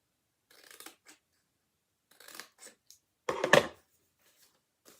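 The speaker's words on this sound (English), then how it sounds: "So we're only going to cut that far." Scissors cut paper for a paper lantern craft in three short bursts of crisp snipping, separated by quiet pauses, with the last burst the loudest.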